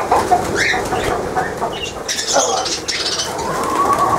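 Parrots give close, sharp squawks and calls in an irregular series, with no talking.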